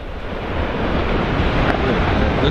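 Ocean surf breaking below a coastal cliff at Port Willunga, a continuous broad roar of waves mixed with wind buffeting the microphone, steady and fairly loud with no talk.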